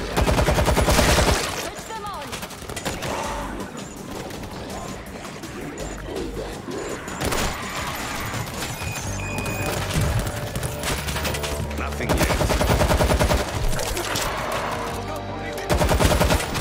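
Gunfire in the zombie shooter World War Z Aftermath, with dense bursts of rapid automatic shots and scattered single cracks, loudest at the start, middle and end, over a busy game soundscape.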